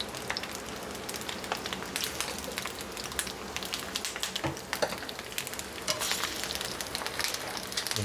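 Shishito peppers fry in a pan with a soft, continuous crackling sizzle broken by scattered sharp pops and spits, moderately quiet and steady throughout.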